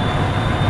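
Class 37 diesel locomotive at full power in Train Simulator 2019, a constant loud engine drone and rolling rumble with a thin steady whine above, no voices.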